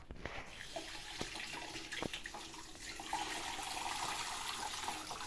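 Water runs steadily from an outdoor fountain tap that will not shut off, a close splashing stream with a few sharper drips and clunks, and no talking.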